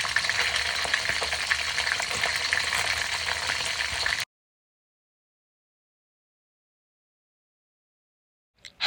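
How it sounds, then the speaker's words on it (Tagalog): Fish sizzles steadily in hot cooking oil in a pan, a dense even crackle for about four seconds before cutting to silence, with a faint click at the very end. "Painitin at lagyan ng mantika. Ilagay ang isda."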